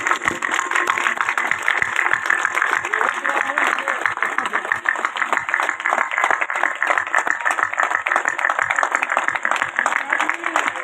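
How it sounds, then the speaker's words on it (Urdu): Sustained applause from an audience at a Teachers Day ceremony, with dense, steady clapping throughout and crowd noise mixed in. "تمام میرے دوست اٹھ کر اپنے اساتذہ کرام کو بھرپور تالیوں کے ساتھ خراج تحسین پیش کریں"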